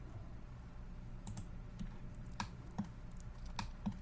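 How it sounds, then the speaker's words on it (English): Computer keyboard and mouse used while drafting walls in Revit: a handful of sharp, separate clicks and key taps, including a spacebar press, spaced irregularly across a quiet room with no talking. "Again, I'm going to do spacebar to flip my orientation."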